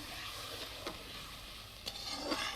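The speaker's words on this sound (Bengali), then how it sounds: "একটু জল দিয়ে দিচ্ছি মশলাটা ভালোভাবে কষানোর জন্য" Masala spice paste frying in a pan with a little water added, a steady soft sizzle throughout with a few faint stirring scrapes, alone and without voices.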